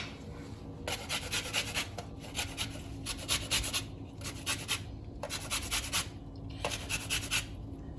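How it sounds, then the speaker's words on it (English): A lemon is zested with quiet, rhythmic rasping strokes in short bursts, separated by brief pauses, heard close and soft with no talking. "And then I'm going to be adding some lemon zest."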